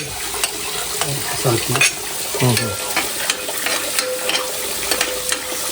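Garlic sizzles and crackles steadily in hot oil for a catfish curry, with occasional stirring scrapes, close and continuous, no talking.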